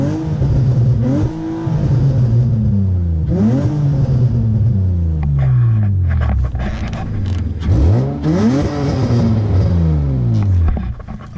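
2005 Nissan Altima SE-R with no catalytic converters or resonators and two aftermarket mufflers, revved repeatedly in place: several loud rising-and-falling exhaust sweeps with a somewhat high-pitched rasp, close by and without talk.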